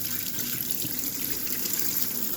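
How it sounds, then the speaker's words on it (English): Cold tap water runs steadily into a sink as a large salmon fillet is rinsed beneath it, a close continuous splashing hiss with no talking. "So we rinse this. Cool water. Actually, it's quite cold."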